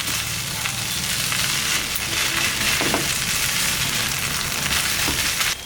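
Chicken being stirred into mayonnaise in a pan over a low flame for chicken bread rolls, a steady close sizzle with soft scraping stirs running throughout.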